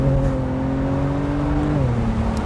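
A BMW Z4 35i sDrive roadster's 300+ hp twin-turbo engine holds a steady, rising tone and then drops pitch at a quick gear shift, loud and close throughout with no talking.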